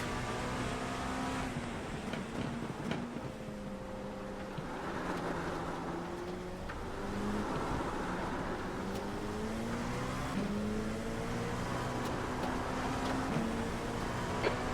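LMP2 prototype race car engine in iRacing at Silverstone, a loud continuous high-revving drone with rising and falling pitch sweeps through gear shifts, close and steady throughout with no talking.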